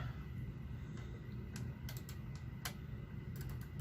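A knitting machine feeds a punch card, giving scattered light mechanical clicks and ticks in irregular clusters over a steady low hum, close by and fairly quiet.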